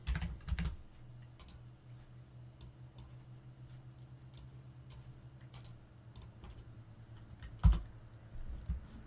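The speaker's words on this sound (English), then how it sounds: "in this terminal, we need to type these commands" Commands are typed into a Linux terminal on a computer keyboard, making quiet, irregular key clicks with a few louder taps and a low background hum.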